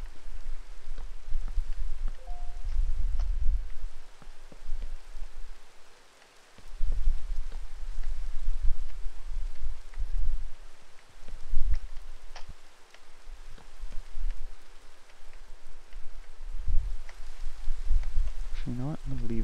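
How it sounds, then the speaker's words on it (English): Steady rainfall in the Minecraft world, a constant soft hiss with scattered drops, while someone talks over it throughout. "Of course it's raining now."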